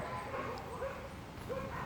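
Three neighbouring dogs yip and bark faintly in the background of a backyard garden, several short overlapping yaps under steady ambient noise.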